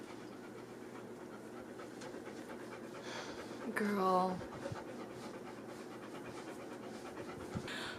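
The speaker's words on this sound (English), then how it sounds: "if you hear heavy breathing, it is not me, it's my dog" A dog pants steadily and quietly in the background while a person speaks, and a brief whimpering whine cuts in partway through.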